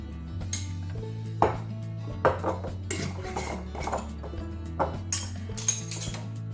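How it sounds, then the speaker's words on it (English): Dry pancake ingredients mixed together in a bowl, a utensil clinking and scraping against the bowl in irregular strokes close up, over a faint steady background hum, with no talking. "you're just going to mix all the dry goods together"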